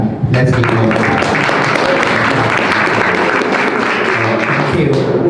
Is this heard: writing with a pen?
no